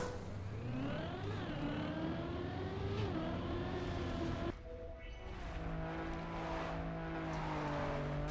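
A rally car engine in a video game drones steadily and loud, its pitch rising and falling through gear changes with a brief dip midway, no talk over it.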